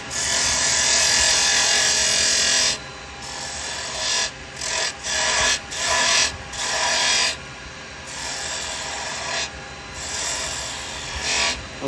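A carbide round chisel cuts wood spinning on a lathe, giving a steady, loud scraping rasp. The tone briefly breaks and changes as the tool is rolled over, with no talking.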